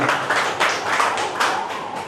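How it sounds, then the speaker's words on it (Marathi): Applause from an audience at a Gungaurav Sohala honouring ceremony, a steady wash of many hands clapping close by, swelling in a few pulses over about two seconds with no talk. "मित्र जोरदार टाळ्या वाचूया"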